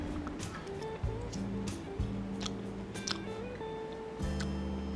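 Someone chews the core of a fresh pineapple up close, with repeated soft crunching bites and moist chewing, fibrous rather than sharply crisp, with no talking.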